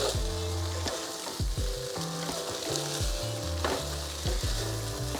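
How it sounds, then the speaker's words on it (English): Pad see ew noodles and vegetables stir-fried in brown sauce with two spatulas give a loud, continuous sizzle broken by repeated scraping and tossing strokes against the pan, close up, with no voices. "Just gonna mix everything together, make sure all the noodles and veggies gets their sauce."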